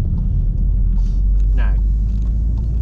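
A 2016 Volkswagen Golf R with a 2.0-liter 298 bhp engine and DSG gearbox drives in sports mode, giving a steady, deep engine rumble with a brief higher chirp partway through.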